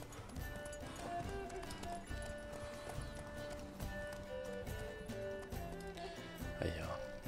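Horses gallop in the video game The Witcher 3, a rapid clip-clop of hooves under a bed of game music, with a brief whinny toward the end.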